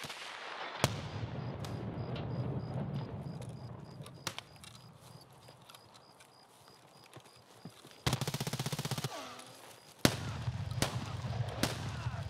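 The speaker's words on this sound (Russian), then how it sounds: "ёб граната!" Sharp, loud explosion blasts in a video game firefight, a few separate booming bursts spaced seconds apart over quieter in-game background noise.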